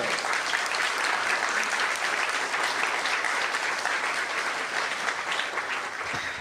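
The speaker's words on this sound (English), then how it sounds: "if everyone could just, like, clap for Lisa, Steve, everybody." Sustained applause from a gathered crowd at a memorial event, steady dense clapping filling the whole stretch at close range with no talk over it.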